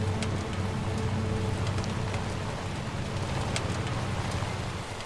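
Steady, dense video game rainfall in Death Stranding 2 hisses continuously, with a low droning rumble underneath and occasional sharper drips standing out.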